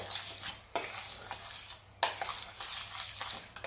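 A spoon stirs liquid into purple-coloured breakfast food in a pan, with irregular scraping strokes and light clinks against the metal, a low steady hum underneath, no voices.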